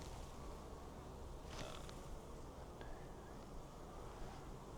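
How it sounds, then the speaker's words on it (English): Honey bees hum steadily around stacked beehives in an apiary, a faint, even drone of many insects with a couple of closer buzzing passes. "lots of bees hanging out there"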